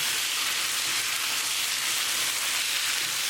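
Beef curry with mushrooms and tadka cooks in an open pan over a high flame, giving a steady, close hiss of frying that runs evenly from start to finish with no voices.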